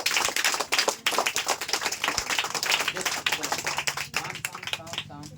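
A crowd of children clapping together, dense and steady applause that fills the whole clip, with a few voices mixed in.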